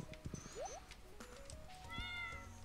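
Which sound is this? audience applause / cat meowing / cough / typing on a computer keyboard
cat meowing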